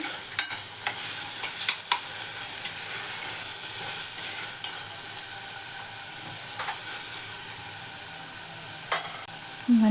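Ginger garlic paste is stirred through Andhra-style chicken gravy curry in a hot pan, giving a steady close sizzle with scraping spoon strokes throughout and no talk.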